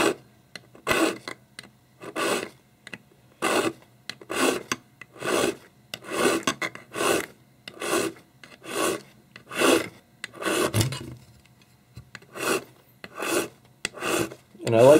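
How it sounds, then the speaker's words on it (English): A coarse hand file radiuses the window of a gearbox shell in a steady rhythm of about twenty scraping strokes, each close and crisp, with short pauses between them. "especially if you have a coarse enough file like I do, it really doesn't take a whole lot of time"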